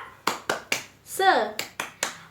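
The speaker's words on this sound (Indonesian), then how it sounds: "Tepuk semangat." A class in a school lesson does a rhythmic spirit clap: three sharp claps, a short voice call, then three more claps, all close and crisp.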